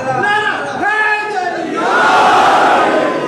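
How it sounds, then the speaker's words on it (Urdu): A religious gathering at a Hussaini Dalan imambara during Ayyam-e-Fatemiyah, where a leader's shouted call is answered by a loud crowd chanting a naara together, the massed voices swelling and holding near the end. "دونوں ہاتھوں کو بلند کر کے نعرہ لگاؤ"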